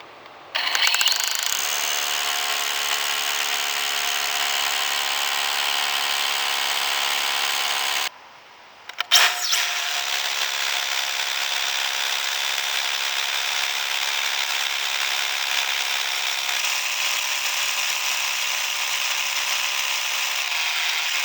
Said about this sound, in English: So I kept drilling until I felt this rock get softer